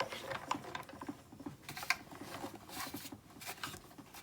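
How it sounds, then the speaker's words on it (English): A die cutting machine cranks cutting plates through its rollers, giving a quiet, steady run of ratcheting, gear-like clicks and small mechanical knocks. "you just run it through your die cutting machine."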